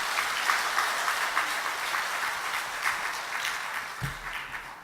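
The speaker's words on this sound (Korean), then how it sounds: "다시 한번 크게 박수하세요." A church congregation at a Korean Wednesday evening worship service claps together in a steady, full burst of applause, fairly loud and continuous, with a brief low thump near the end.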